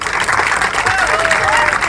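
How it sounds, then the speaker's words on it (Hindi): A crowd at a devotional gathering applauds loudly and steadily, the clapping mixed with a murmur of voices and some faint tonal sounds in the background. "इनके लिए तालियां बजाइए पहले तो"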